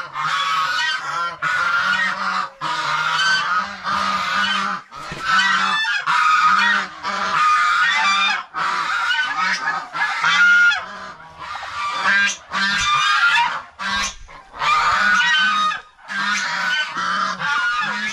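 Loud, repeated honking calls from turkeys and ducks, overlapping in rapid bursts with brief pauses, close by and continuous throughout.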